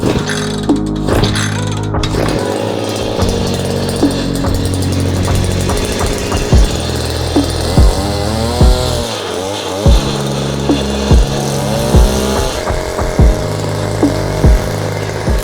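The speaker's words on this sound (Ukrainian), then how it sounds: "Ось так легко і швидко запустився наш мотокультиватор." A Dnipro-M M25 two-stroke motor cultivator engine starts after a short pull and runs close by, with a buzzy, uneven idle and regular sharp pops recurring through the rest of the run.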